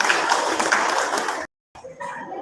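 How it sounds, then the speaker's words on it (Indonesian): Audience applause at a university student arts night in a church station, a dense wash of clapping that cuts off abruptly, then a short quieter stretch of scattered claps. "Mari kita berikan aplaus untuk teman-teman OMK."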